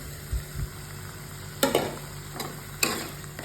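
Ginger, garlic and green chilli paste being stirred in a hot pan, with a few scraping spoon strokes and soft sizzling in quick bursts, close and moderately quiet, no voices.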